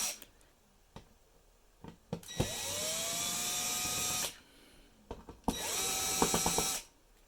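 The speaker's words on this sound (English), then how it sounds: "We're going to go ahead and unscrew the bottom here" A small electric screwdriver unscrewing the bottom panel of an Intel NUC i7 10th generation mini PC, two close whirring bursts of a few seconds each, with soft taps and clicks between them.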